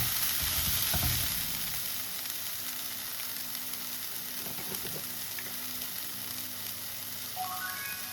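Onions fry in a pan with a continuous close sizzle, punctuated by occasional scraping and stirring sounds.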